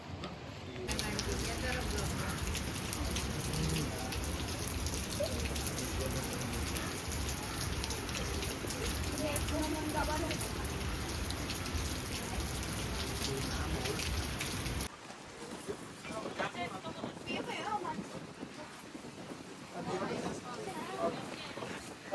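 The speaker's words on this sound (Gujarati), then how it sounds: "અમે નીકળીએ ને વરસાદ ચાલુ થાય." Heavy rain pours down in Mombasa, Kenya, in a dense, continuous hiss, loud and close for most of the time before softening to a lighter patter.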